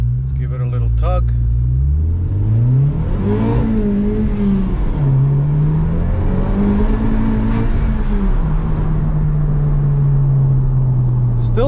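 A 2019 Honda Civic Type R engine with stock intake revs several times from idle, loud and close, rising and falling in pitch over a steady rumble, with the car stationary.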